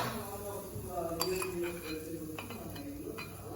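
A ladle stirs egg fry (egg bhurji) in a cooking pan, with scattered metallic clinks and scrapes over a steady sizzling hiss and faint voices nearby.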